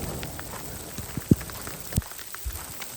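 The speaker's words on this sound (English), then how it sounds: "Hey, this is pretty much all hail coming down." Hail pelting down through a wet forest, a steady fine patter of small hits with a few sharper, louder impacts standing out close by.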